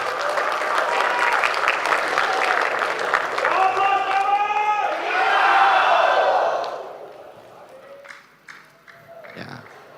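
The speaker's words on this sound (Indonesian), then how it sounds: "Boleh berikan tepuk tangan sebentar?" Audience applause at a regional gubernatorial election debate, a full hall of clapping and cheering swelling loudly for several seconds, then fading into scattered claps and quiet, with a voice heard briefly.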